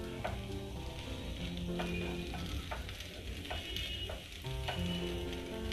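Methi muthiya shallow frying in a pan give off a steady, dense sizzle with scattered pops and crackles, close and continuous throughout.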